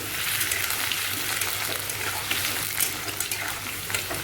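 Onion and potatoes fry together in a pan, giving a continuous close hiss and sizzle with fine crackling, fairly loud and steady throughout.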